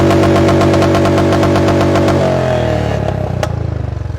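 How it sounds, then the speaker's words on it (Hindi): Motorcycle engine running close and loud with a fast regular chugging beat, then settling into a rougher uneven idle as the revs drop. "अब मैं देखो बाइक स्टार्ट कर रहा हूँ"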